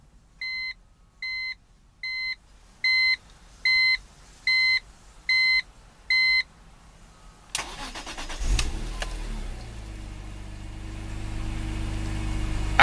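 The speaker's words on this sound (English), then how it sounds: "Absolutely butter smooth sounding performance engine." A 2007 BMW Z4 M Roadster gives a row of eight evenly spaced electronic chimes, then its engine cranks and fires with a sharp bark before settling into a steady, smooth idle, close and clear with no talking.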